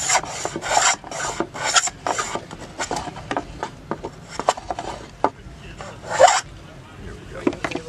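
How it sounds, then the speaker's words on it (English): A piece of wood being trimmed by hand with a rasping, scraping tool at a Civil War reenactment camp, in a run of short irregular strokes, some louder, with voices murmuring faintly in between. "Just trim that piece off a little bit."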